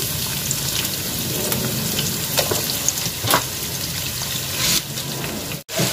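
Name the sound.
chopped onions frying in a pan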